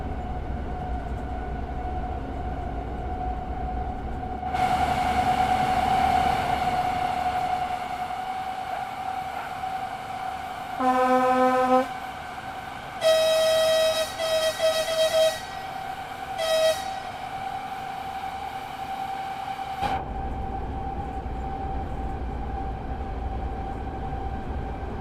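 A Class 843 diesel railcar runs along track in Train Sim World 6, a steady rolling rumble with a loud horn-like tonal blast and several shorter, higher tonal bursts partway through, then settling back to the even running noise.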